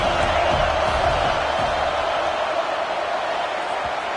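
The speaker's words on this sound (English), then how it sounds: "how nice is it to have the home crowd going absolutely bananas?" A home crowd at a football game roars steadily throughout, a dense, loud wash of cheering and shouting with no breaks, heard from within the stands.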